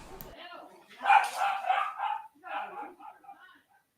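Several dogs bark and yip in a quick cluster, close by, fading into softer whimpers before silence.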